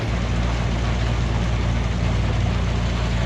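An old prairie tractor engine idles loud and close, a dense, unbroken low rumble with a steady throbbing hum that holds level for the whole few seconds.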